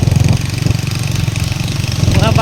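Motorcycle engine running at a steady idle with a low, continuous rumble throughout, loud and close, as riders get ready to set off in Ormoc City, with some faint voices mixed in.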